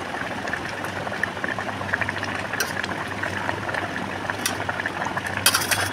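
A pot of vegetable curry boils with a steady, soft bubbling and occasional small pops and clicks, fairly quiet and with no voices.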